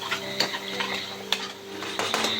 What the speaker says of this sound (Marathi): हे चांगलं मस्त परतून घ्यायचं असं.